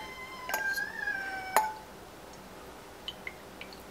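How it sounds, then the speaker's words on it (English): A cat gives a short, rising meow, followed by a few faint clinks and taps in a quiet room. "That's my cat meowing."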